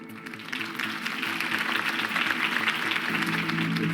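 Crowd applause in the video game Batman The Telltale Series after a campaign speech for Harvey Dent, a dense, steady ovation from a large audience that swells slightly and holds loud throughout, with music underneath.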